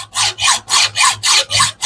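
A hand saw cuts through wood for a mitre joint in rhythmic back-and-forth rasping strokes, about seven close, even pulls with no talk.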